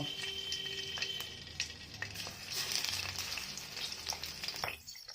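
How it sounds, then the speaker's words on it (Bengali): Hilsa fish heads fry in hot oil in a wok, giving a steady, close sizzle with crackling bursts throughout before it drops away at the very end. "মাছগুলো ভেজে নেব।"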